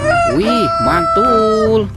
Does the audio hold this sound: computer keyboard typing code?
no